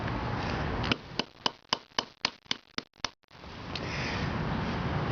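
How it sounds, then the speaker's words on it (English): Black walnut shells cracked with a hammer on concrete: about eight sharp, evenly spaced strikes in quick succession, loud and close, with a broad hiss of background noise before and after. "I like to go after this soft part with the hammer and get a nice shatter on the shell"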